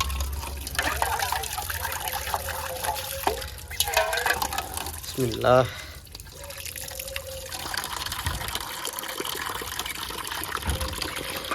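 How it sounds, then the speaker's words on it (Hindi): Clean water is poured into a container for pigeons on a farm, a short splashing trickle and fill amid outdoor background noise, with someone speaking briefly over it. "इसमें साफ़ पानी थोड़ा सा"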